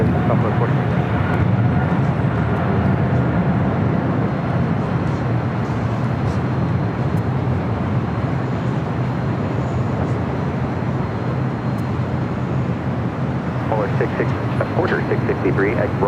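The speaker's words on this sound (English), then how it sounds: "I hear heavy rolling down at 25 right. China Cargo, 777 freighter." A China Cargo Boeing 777 freighter rolls for takeoff at LAX, a loud, sustained jet roar from a distance with wind rumble, heard over the airport without any talk.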